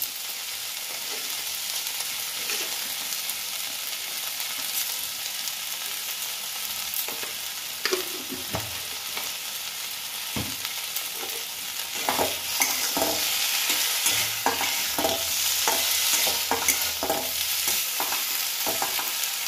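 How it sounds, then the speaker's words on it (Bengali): Potatoes and eggplant fry in a pan with a constant hissing sizzle, while repeated spatula scrapes and knocks grow busier toward the end. "আলু বেগুন পুরো ভাজা ভাজা হয়ে গেছে।"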